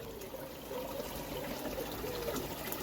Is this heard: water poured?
yes